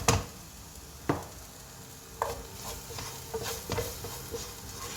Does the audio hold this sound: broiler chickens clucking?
no